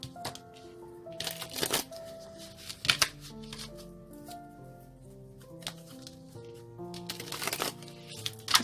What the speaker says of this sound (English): 2 more shuffles, they said.